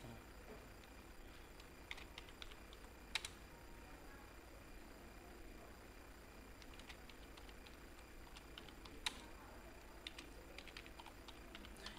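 Quiet typing on a computer keyboard sounds as light, irregular clicks and a few firmer taps over a steady low hum.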